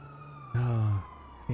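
A police siren in a GTA roleplay game city sounds one short rising wail at moderate volume. A second whoop starts just at the end over a faint background hum.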